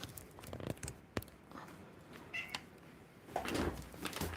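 Pet cat meowing indoors, a few short, fairly close calls scattered through moderate room noise and light shuffling.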